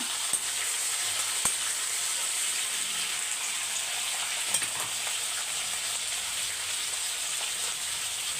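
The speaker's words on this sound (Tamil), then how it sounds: "இப்போ ஒரு அஞ்சு நிமிஷம் வதக்கி விட்டுக்கோங்க அப்படியே இருக்கட்டும்" Sautéing in a pan while cooking a Thai Pongal festival meal, a steady even sizzle with a few faint clicks of stirring, heard alone without talk.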